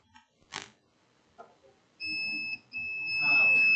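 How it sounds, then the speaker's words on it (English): A multimeter checking coils on a motherboard gives a steady electronic beep that sounds twice with a brief gap, following a few faint taps and knocks, with light handling noise underneath. "The multimeter is beeping."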